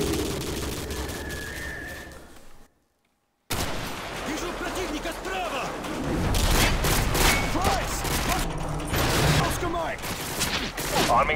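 Gunfire in the video game Call of Duty Modern Warfare 2, dense bursts of shots and explosions filling most of the clip, loud and continuous after a brief dropout, with some voice mixed in.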